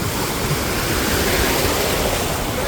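Sea waves break against rocks on the shore, a dense, loud, continuous roar of surf and spray filling the short stretch without any talk.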